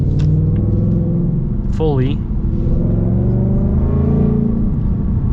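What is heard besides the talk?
2025 Ford Mustang RTR X-pipe exhaust revving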